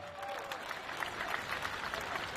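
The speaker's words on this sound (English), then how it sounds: "one final round of applause for OKN Junior." Applause for OKN Junior kart racers at a Champions of the Future Academy meeting at Al Forsan, a brief, even burst of crowd clapping, moderately quiet and slightly distant.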